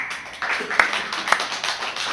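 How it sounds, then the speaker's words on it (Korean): A church congregation claps together during a sermon, a brief patter of applause with a couple of sharper nearby claps standing out over the softer crowd. "찬양과 영광의 박수 올려드립시다."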